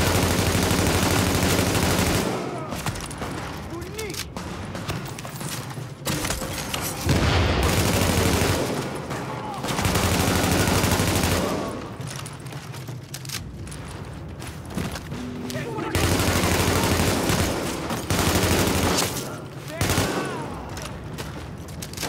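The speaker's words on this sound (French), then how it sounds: "L'escorte essuie des tirs en provenance du toit." Bursts of gunfire pour from a rooftop in The Division, loud rapid volleys and machine-gun rattles coming in waves with short quieter gaps between them, some talk layered in.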